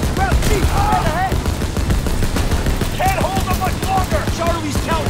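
Rapid bursts of mounted machine gun fire in Call of Duty WWII's Operation Cobra mission, loud and close and continuing through the whole stretch, with shouting voices over the shooting.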